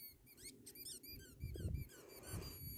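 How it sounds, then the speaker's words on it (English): A squeaky dog toy squeaks again and again in quick, high, wavering bursts as German Shepherds and a Husky play, with low rustling and thumps of movement underneath. "It's the squeak that does it, isn't it?"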